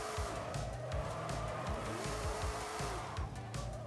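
A car drifts on a drift map in Forza Horizon 5, its engine droning loud and close while tires squeal in long rising and falling screeches through repeated slides.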